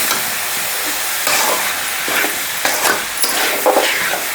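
Brinjal and prawn tamarind curry is stirred in a pan, a steady sizzling hiss broken by several scraping strokes of the spoon, close and fairly loud with no voices.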